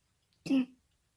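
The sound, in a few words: coughing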